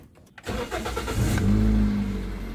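A Toyota Corolla Altis 1.8 with a manual gearbox starts up. After a few quiet clicks, the starter cranks and the engine catches, then settles into a steady, loud idle heard close by.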